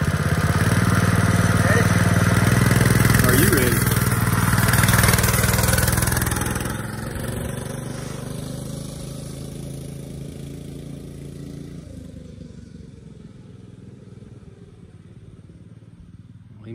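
Coleman RT200 196cc mini bike engine revving hard nearby as the rider takes off, then fading steadily into the distance over several seconds, with people talking over the engine.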